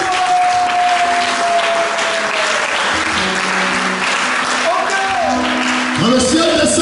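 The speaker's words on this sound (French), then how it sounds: "Est-ce que quelqu'un peut acclamer très fortement le Seigneur?" A church congregation in Yopougon, Abidjan, cheers and applauds the Lord loudly in a dense, sustained roar of clapping and shouting, with voices rising above it near the end.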